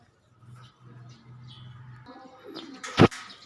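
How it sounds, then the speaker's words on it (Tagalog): Pigeons give soft, repeated low coos close by, followed by a few faint chirps and a sharp brief knock near the end, with no voices. "Ayan yung tatlo mga kalapatids."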